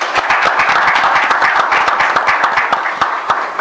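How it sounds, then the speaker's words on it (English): An audience applauds panelists at the close of a conference session, with dense, loud, steady clapping from many hands that continues without a break. "I hope my panelists deserve a round of applause for their contributions"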